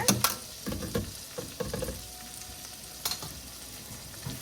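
Pancetta and garlic sauté in butter and olive oil, giving a soft, close sizzle broken by a few quick stirring scrapes and clacks.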